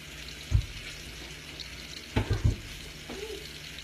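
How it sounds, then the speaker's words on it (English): Scallops searing in a pan over medium-high heat in a home kitchen, a low sizzle running beneath a few sharp knocks and clatters of pan and utensil, close by with no talking. "So we got our scallops going in our pan."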